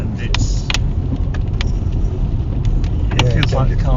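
Inside an MG ZS EV on an off-camber road, heavy low road rumble fills the cabin, broken by scattered knocks and rattles as the car bumps and bounces, with a brief voice near the end.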